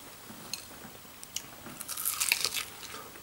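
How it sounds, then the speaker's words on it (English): Several crisp crunching bites into hot chicken with crunchy skin, close up, growing denser and louder toward the end, with no talking. "Chicken, crunchy skin, hot bite."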